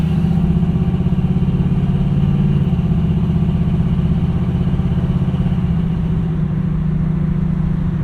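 A 1968 Chevrolet Camaro with an automatic transmission drives along with a steady, loud low engine drone that holds even throughout, with no talking.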